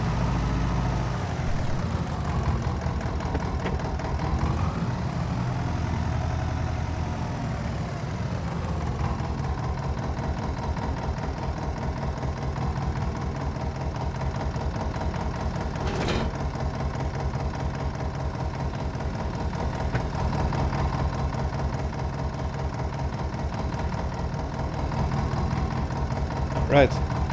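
A restored farm tractor engine runs at a steady idle, a continuous low rumble with a chugging pulse and a few brief rattles along the way, under occasional talk.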